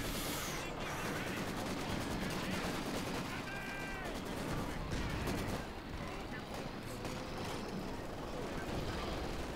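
Dense, continuous gunfire and explosions from a Company of Heroes 4v4 match, with machine gun bursts laying down suppressing fire amid a loud, sustained battle din.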